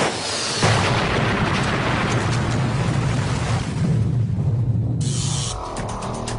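Torpedo explosion inside a launch tube of the Russian nuclear submarine Kursk, a dense sustained roaring blast with deep rumble, loud and close, fading to a thinner hiss near the end.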